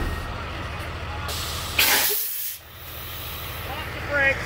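Parked truck's air brakes locked, giving a sudden sharp burst of compressed-air hiss that cuts off abruptly, close and loud over a steady idling engine rumble.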